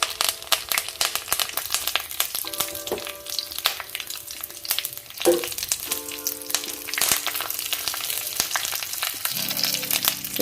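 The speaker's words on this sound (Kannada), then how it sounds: "ಇವಾಗ ಇದಕ್ಕೆ ಬೆಳ್ಳುಳ್ಳಿಯನ್ನು ಹಾಕೋಣ. ಚೆನ್ನಾಗಿ ಕೆಂಪಾಗಲಿ ಬೆಳ್ಳುಳ್ಳಿ." Garlic and curry leaves fry in hot oil with loud, crackling sizzles and spits, with utensil clinks and stirring scrapes mixed in, close up and without talk.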